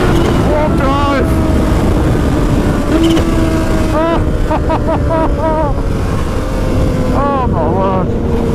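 Kawasaki Ninja H2 motorcycle accelerating hard through the gears, a loud engine roar under heavy wind buffeting, with rising revs and quick shifts, while a rider talks over it.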